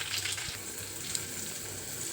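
Asafoetida tempering sizzles in hot oil for a sprouts and raw mango pulihora, a steady close hiss with a soft crackle throughout and no talk.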